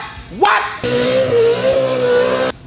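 A naturally aspirated 14:1 Cup Car engine in a Toyota TRD drift truck blips once, then holds a loud, steady high-revving scream for nearly two seconds before cutting off, heard up close.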